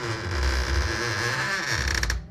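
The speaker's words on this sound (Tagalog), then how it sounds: "Huminga ako ng malalim at dahan-dahang binuksan ang pinto." A door is opened slowly, giving a drawn-out creak with a steady squealing tone over a low rumble, close and fairly loud, fading out at the end.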